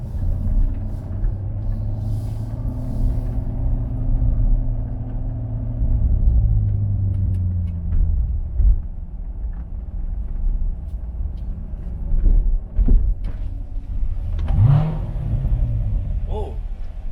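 A Corvette C7 Grand Sport's V8 rumbles on a country drive, a deep, steady engine drone that swells and rolls back as an echo off nearby surroundings, with a few brief sharper bursts near the end.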